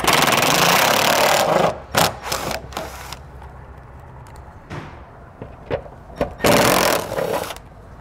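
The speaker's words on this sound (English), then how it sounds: "So we'll go ahead and take a 10 millimeter socket. We'll begin removing each of these." A 10 millimeter socket on a ratchet undoes plastic nuts on a 2018 Chrysler Pacifica's underbody panel, with bursts of clicking and whirring between quieter pauses and a few short knocks, close by and without speech.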